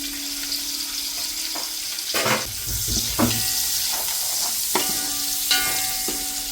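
Onions, green chilies, bay leaf and pulao masala frying in oil for a home-style chicken pulao, a steady close sizzle broken by several bursts of stirring and scraping in the pan, with no talk.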